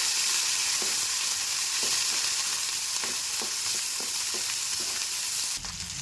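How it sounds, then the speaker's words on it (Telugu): Curry leaves and onions frying in oil in a pan for upma make a loud, steady sizzle and hiss throughout, with faint clicks of stirring. "ఇప్పుడు కరివేపాకు వేస్తున్నాం. ఉల్లిగడ్డలు కొంచెం గోలాలి."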